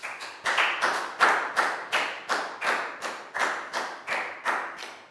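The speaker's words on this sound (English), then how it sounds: "Big round of applause for Pak Bung." A Year 3 English class claps for a classmate named Pak Bung: a steady, rhythmic run of about a dozen evenly spaced group claps or thumps, close and fairly clear, with no voices over it.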